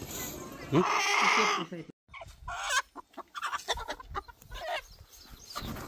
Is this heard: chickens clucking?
yes